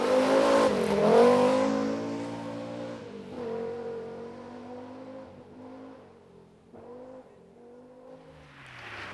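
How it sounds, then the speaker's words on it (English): A Group A Audi Quattro rally car drives on a rally stage, its engine revving hard and then easing off through several gear changes, fairly close and fading toward the end. "This is Glyn Jones from Carmarthen with Dave Nicholson from Daventry in the Group A Audi Quattro"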